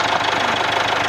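A Jaguar F-Pace with the Ingenium engine idles steadily, a continuous mid-pitched engine drone with a faint rhythmic knock running through it, close and constant, with no talk.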